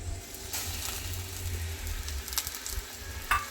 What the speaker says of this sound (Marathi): ती व्यवस्थित परतून घ्यायची आहे गॅस एकदम मंद आहे